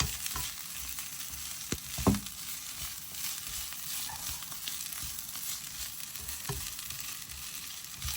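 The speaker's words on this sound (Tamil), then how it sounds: "ஒருக்கா கலந்து விடுவோம்." Curry fries in a pan while being mixed, a steady close sizzle with occasional spoon scrapes and a louder clatter early on.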